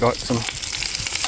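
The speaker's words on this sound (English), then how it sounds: "pork sausages frying up" Pork sausages sizzle and fry in a pan at a campsite, a steady close crackle with a few brief words spoken at the start.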